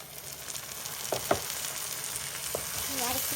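Onion, garlic and ginger paste fries in a pan for chicken curry, with a steady close sizzle and a few scraping stirs, alone with no talk.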